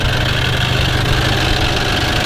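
A car engine with a slight fault idles steadily up close, a constant low rumble with a faint rhythmic knock and no voices.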